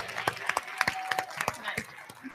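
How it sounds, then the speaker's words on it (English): An audience at a NASPA conference debate event claps for the debaters. The applause is sparse and quiet, a scattered patter of individual claps. "how about a big round of applause for all of our debaters today?"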